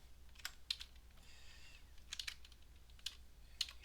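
Code for a Roblox game is typed on a computer keyboard. Quiet, close key clicks come in short irregular bursts, with brief pauses between them.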